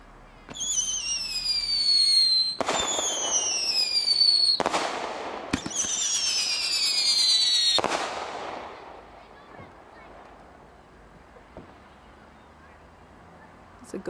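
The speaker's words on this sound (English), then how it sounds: "Whistling artillery shell." Whistling artillery shell fireworks, one launch followed by a string of several more, each a loud whistle rising as it climbs and ending in a sharp bang, then fading into quiet with faint distant pops.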